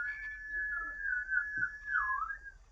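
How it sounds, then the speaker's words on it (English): A thin, high-pitched whistle made by breathing inward holds steady for nearly three seconds, close and fairly quiet, wavering slightly and dipping near the end before fading out. "that's the only whistle I do is like that inward breathing that leaves a high pitched noise"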